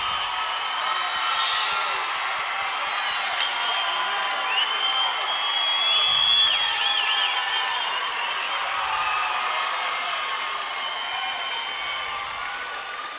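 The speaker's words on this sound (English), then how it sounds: "The Manhattan crowd is cheering rather loudly over there" A Manhattan crowd at a high school Class 6A wrestling final cheers and whoops steadily in a large hall, a continuous mid-distance roar with scattered applause throughout.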